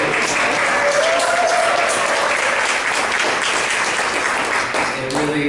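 A round of applause from an event audience, a continuous, even wash of many hands clapping that fills the whole stretch before fading slightly at the end.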